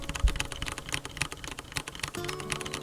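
Rapid typing on a mechanical keyboard fitted with brown switches and PBT keycaps, a steady run of close, fairly quiet key clicks and thocks with an uneven rhythm.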